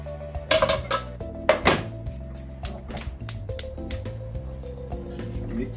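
Cooked penne tipped from a strainer into a pan of salmon sauce, with a few clattering metal and pan knocks and soft wet slides over a steady kitchen hum, no talk.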